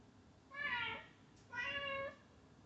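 Two recorded cat meows played from an Alexa smart speaker, each a clear drawn-out mew lasting about half a second, separated by a short pause over a low background hiss.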